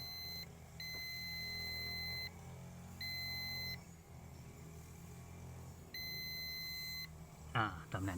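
A multimeter gives continuity beeps while a sensor screw on a Toyota 3VZ-E engine is adjusted, with steady tones of uneven length starting and stopping against a low background hum.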